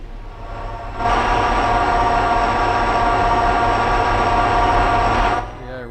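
A train in the Run8 rail simulator game passes as a loud, continuous rumbling drone with a steady engine hum, rising abruptly after a quieter start and dropping away near the end.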